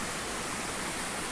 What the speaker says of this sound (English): So here we are, waterfall,